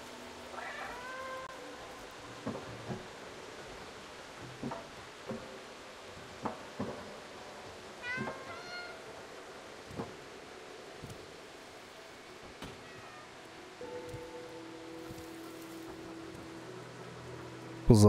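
Several cats in the video game Stray meow and cry repeatedly over a long stretch, scattered calls of varying pitch against a quiet hissing background with occasional soft rustles.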